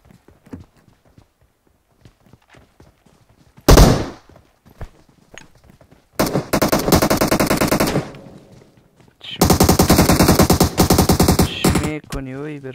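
Rapid automatic gunfire in the mobile shooter PUBG Mobile, with a single loud shot followed by two long sustained bursts of fast rattling fire, close and loud, with faint footsteps between them.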